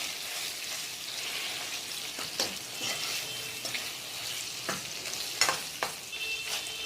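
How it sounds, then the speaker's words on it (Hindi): Sliced taro fries in a pan, making a soft, steady sizzle while a spoon stirs it with several sharp scraping clatters. "अब हम इस पे डाल देंगे अरबी जो हमने स्लाइसेस में काटी है और इसको हम मिक्स कर देंगे।"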